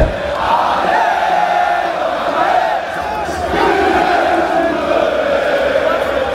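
A large football crowd at the Vélodrome stadium for a PSG match chants loudly and continuously, the massed voices rising and falling in a sustained roar.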